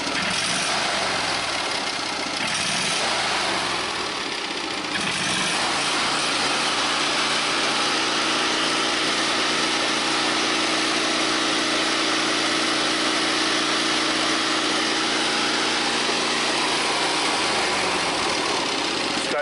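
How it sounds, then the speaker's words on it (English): Kohler Command twin engine running under throttle, a loud, steady close-up drone that rises from idle to a sustained higher pitch and holds, with no talk. "Let's go ahead and give it some throttle."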